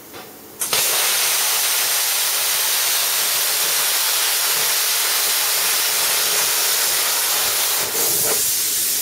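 A pilot arc plasma cutting torch running on guide wheels gives a loud, steady hiss that starts abruptly and holds evenly for about eight seconds before a brief dip near the end, with no talking.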